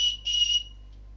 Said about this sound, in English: On the side here you've got a small little whistle.